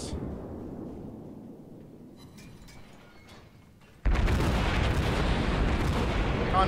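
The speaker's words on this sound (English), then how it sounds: "Kind of spamming the shells" A warship's naval guns fire shells in the World of Warships game, opening with a fading boom, then a sudden loud, sustained barrage of heavy rumbling blasts.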